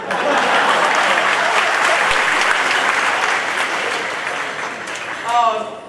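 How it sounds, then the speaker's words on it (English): Audience at a queer film festival opening ceremony breaks into loud, dense applause, sustained many-handed clapping that eases slightly before a voice begins speaking at the end. "it's true, you can clap"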